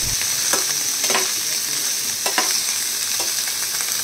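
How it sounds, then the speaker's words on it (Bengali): Paneer pieces shallow-frying in a spoonful of ghee in a pan, a close, even sizzle with occasional soft stirring scrapes, no voices. "এক চামচ ঘি দিয়ে পনিরগুলোকে আমি সুন্দর করে হালকা করে ভেজে নিচ্ছি।"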